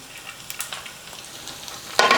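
Cashews added last to a fish curry masala of tomato and onion, frying with a steady sizzle and light stirring, and a louder burst of hissing near the end.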